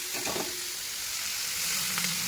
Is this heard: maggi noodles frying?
yes